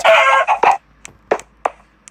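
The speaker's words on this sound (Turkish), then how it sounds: "Tavuk." Several short, sharp clucks from a chicken in Minecraft, the first few drawn out, then quick isolated clucks spaced apart, clear and close with no talking.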